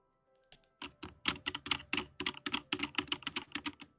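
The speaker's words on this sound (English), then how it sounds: "It just sounded like you were just kind of like ba ba ba ba ba on the fucking keyboard." Rapid, uneven typing on a computer keyboard, a dense run of close, crisp key clicks that starts after a brief pause and continues steadily to the end, with no voices.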